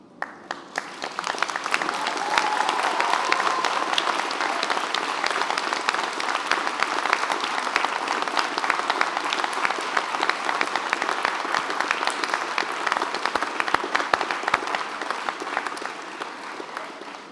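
Graduates applauding their friends and family at a Cambridge graduation ceremony, a long sustained round of many hands clapping in a large hall, loud and steady, rising at the start and tapering slightly at the end.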